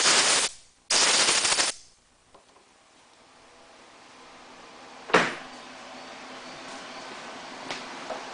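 Compressed air blasts debris out of the carburetor area of a Honda EV6010 generator: two sharp, close hissing bursts in quick succession, a quiet pause, then one brief puff and a faint final blip.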